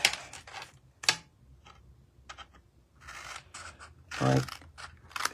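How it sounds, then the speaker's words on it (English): Scissors snipping the corners off a scored card treat holder, a few sharp close crunches and snips spaced apart, with faint handling rustles between them and a brief spoken word. "We're just going to cut off those corners."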